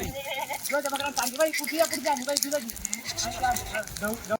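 Goats at a village goat sale bleat repeatedly, close and fairly loud, their wavering calls overlapping in a steady stream while someone talks in the background.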